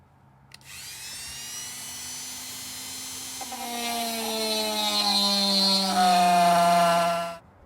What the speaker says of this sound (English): we'll drill up to about here and straight down the center there